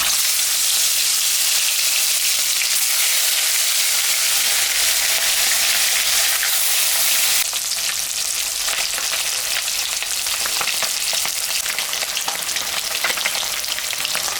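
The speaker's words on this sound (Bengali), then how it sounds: "কাটা মাছটা এখন আমি ভাজবো তেল গরম হয়ে গেছে" Cut pieces of fish frying in hot oil, a loud continuous sizzle and crackle that carries on unbroken and close, easing slightly about halfway through while spitting pops continue.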